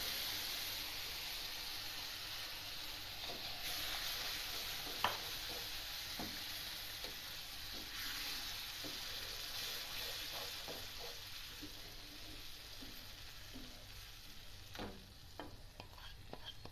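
Aloe vera mixture added to roasted semolina in a pan, a soft steady sizzle with faint scraping stirs and occasional light clinks, quiet and close.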